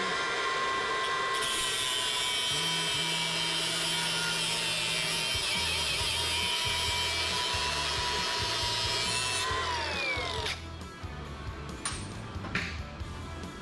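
Power tool cutting through steel horseshoes with a loud, continuous grinding whine for about ten seconds, a low thumping rhythm beneath it, before the blade winds down and scattered clanks follow.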